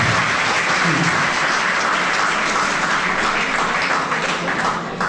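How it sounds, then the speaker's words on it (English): Sustained applause from an audience after a presentation at an engineering college, a dense steady clatter of many hands clapping at close range that fades slightly at the end, with no talking over it. "let's have a round of applause for you"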